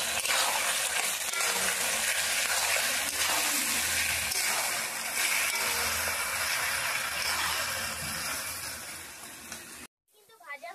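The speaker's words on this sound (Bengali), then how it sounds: "এখন এটাকে ভালো করে ভেজে নিতে হবে।" Ginger-garlic paste and chili paste fry for a duck curry, a steady dense sizzle with faint stirring that runs nearly ten seconds before cutting out abruptly at the end.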